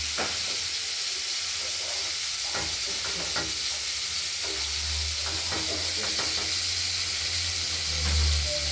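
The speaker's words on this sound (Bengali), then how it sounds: "এরপর মাছগুলোকে আমরা দিয়ে ভেজে নেব।" Pieces of katla fish fry in hot oil with a steady close sizzle and hiss, broken by occasional stirring scrapes and a low rumble near the end; nobody speaks.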